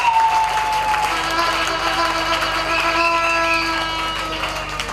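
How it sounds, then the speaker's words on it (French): Sustained, loud applause from a congregation at a nuptial blessing ceremony, steady throughout with a held musical tone running beneath the clapping. "Acclame très fort le Seigneur."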